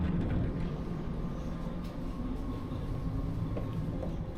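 Steady interior rumble of a new-version Swedish long-distance passenger train running, a continuous low, even drone with faint rattles, heard alone without speech.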